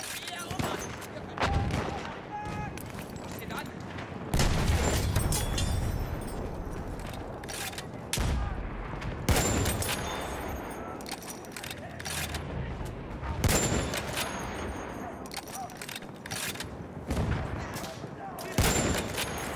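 Bursts of gunfire from the player's weapon in a first-person shooter, loud sharp volleys spread throughout, some rapid and some spaced, with booming impacts and someone talking between them.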